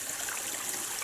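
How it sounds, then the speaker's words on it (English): A small waterfall about a foot high beside a hiking trail in Natural Bridge State Resort Park, Kentucky, gives a brief, steady, soft rushing splash of water. "Oh look, a waterfall."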